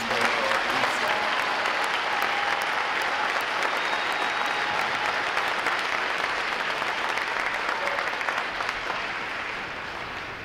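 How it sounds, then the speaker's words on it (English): Sustained, loud applause from a large crowd at a U.S. Navy Recruit Training Command graduation ceremony, a dense steady roar of clapping that holds for about ten seconds before easing slightly at the end. "Please join me in a round of applause for all of the supporters here today"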